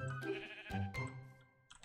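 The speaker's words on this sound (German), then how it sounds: "Nein! Böse Schaf! Böse Schaf! Böse Schaf!" Minecraft sheep bleating in a German playthrough, several loud, close, wavering bleats in quick succession, then a short quieter pause with faint game sounds.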